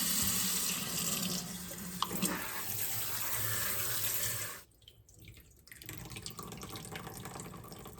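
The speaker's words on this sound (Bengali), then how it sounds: "এবার ছানাটাকে আমি একটু ঠান্ডা জলে ধুয়ে নেব যাতে ভিনিগারের গন্ধটা চলে যায়" Cold tap water runs steadily into a kitchen sink as chhena (curdled milk) is rinsed, a continuous broadband rush that cuts off abruptly, pauses briefly, then resumes more softly, with no talking.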